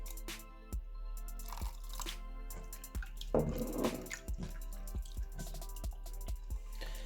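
Water dripping and squelching as it is worked into a jiggly slime, with a series of wet drips, small crunchy clicks and a louder sticky mixing burst near the middle, close and alone without talk.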